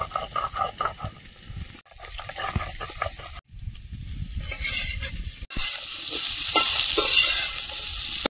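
Vegetables are stir-fried in a pan in a home kitchen. A spatula scrapes and stirs in uneven bursts with short pauses, then a louder, continuous sizzle takes over near the end.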